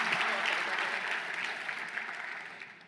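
Audience applause at a marketing talk, a steady wash of clapping that starts full and slowly tapers off over a few seconds, heard alone without voices.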